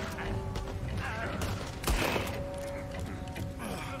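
Gunfire in Red Dead Redemption 2 on the island of Guarma, with a sharp, loud shot standing out near the middle over a steady, busy game soundscape and other rattling reports.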